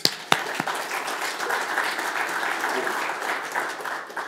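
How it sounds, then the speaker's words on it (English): Applause for a speaker at a Mi'kmaq community live-streamed event, a steady crowd of clapping sustained for several seconds after a couple of sharp initial claps, fairly loud throughout. "how about a big round of applause for Chris?"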